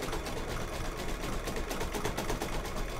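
An embroidery machine stitching a heart mug rug in a magnetic hoop, a steady rapid needle chatter with slight catches as the magnets pass over the needle plate, close and continuous with no talking.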